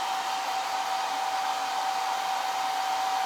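Hair dryer running on its cold shot setting while drying craft glue, a steady airy whoosh with a thin whining tone, close and constant, no voices.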